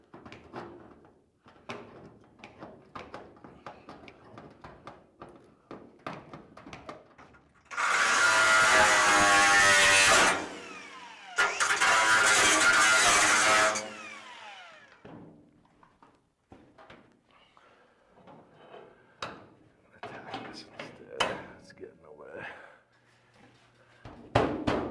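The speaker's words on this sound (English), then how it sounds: "come back from the inside and cut out all that extra metal" A power cutting tool slices extra metal from the inside of a 1940-41 Chevrolet car body panel, two loud sustained bursts of cutting about two to three seconds each, separated by a short pause, amid shop clatter and handling noises.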